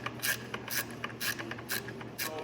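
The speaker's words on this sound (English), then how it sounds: "we have to take off this bolt right here" A ratcheting wrench works a bolt loose on a dirt bike engine during an oil change, giving a quick series of close, crisp clicks in an even rhythm, with a brief pause partway through.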